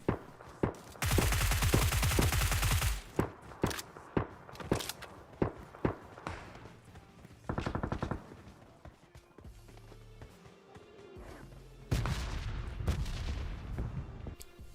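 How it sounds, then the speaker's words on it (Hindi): Bursts of rapid gunfire in the video game PUBG Mobile crackle from all directions, with long automatic volleys and scattered single shots near and far, broken by brief quieter gaps. "यहाँ पे अभी चारों तरफ से गोलियां चल रही हैं"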